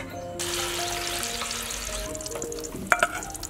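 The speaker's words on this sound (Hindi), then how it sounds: "अंडे फ्राई कर लेना" Boiled eggs fry in a pan for egg biryani, giving a steady sizzle throughout, with a couple of louder spatters near the end and faint music underneath.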